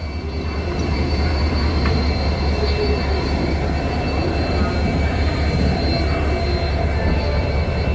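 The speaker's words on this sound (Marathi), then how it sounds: "आपल्या ट्रेनला हा लोकोमोटिव्ह लावणार आहे WDP 4D." Steady rumble of a train hauled by a WDP-4D diesel locomotive rolling on rails, a deep engine drone with faint wheel squeal and rattle running throughout.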